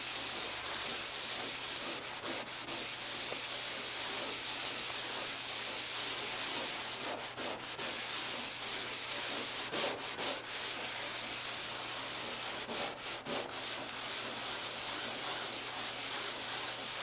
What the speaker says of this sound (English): we'll work this in with some Scotch-Brite